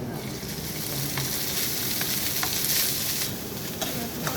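Butter garlic fried rice sizzles in a pan while being stirred, a constant close crackle of frying with faint scrapes and light clicks throughout and no talking.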